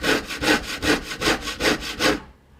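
A jeweller's piercing saw cuts out the inside of a design, with about seven steady, evenly paced rasping strokes, close and clear, stopping near the end.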